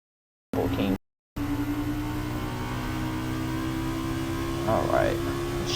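In Forza 6, a Chryslus Rocket car on drag tires accelerates hard down a straight, its engine note a steady, loud whirring drone that briefly cuts out near the start and then holds, with a faint voice briefly over it.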